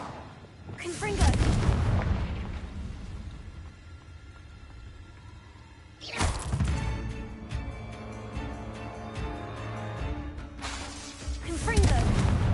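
Confringo blasting spells go off in a Harry Potter video game as three loud, booming blasts with crackling tails, the second and third following at steady gaps after a sustained rumbling bed of battle noise.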